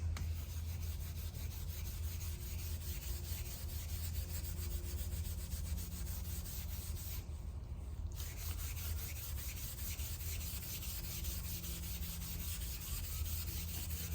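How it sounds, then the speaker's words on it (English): Steady, even rubbing of steel wool over a Les Paul-style guitar finish continues for the whole stretch, soft and close, with a brief lull partway through. "I'm gonna hit it with this steel wool and just see what happens"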